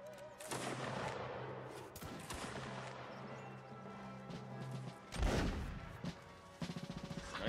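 Musket volleys crack out in the Napoleonic Wars game during a line battle, several loud broadband bursts of massed fire with rumbling echoes, spaced irregularly across a noisy battlefield bed.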